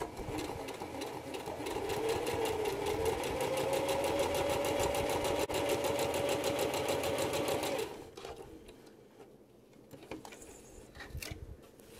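A sewing machine bastes along a fabric edge in one continuous, fairly quiet run of rapid, even stitching lasting about eight seconds, then stops, leaving faint handling and rustling.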